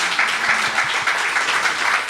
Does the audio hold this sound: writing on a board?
no